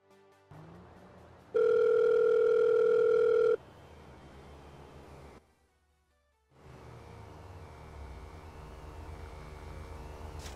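A phone booth in the FiveM game gives a steady electronic dial tone lasting about two seconds, set between stretches of quieter background hum and a brief drop to near silence.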